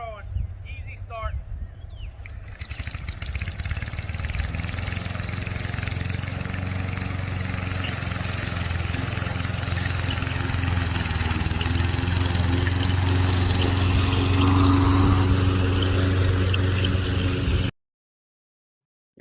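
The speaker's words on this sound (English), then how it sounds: "The 22-inch Toro lawnmower. I'm ready to go. Grass is growing. Easy start." A 22-inch Toro lawnmower pulls into life after a few starting sounds, then settles into a steady, loud, droning run that holds alone for about fifteen seconds before cutting off abruptly.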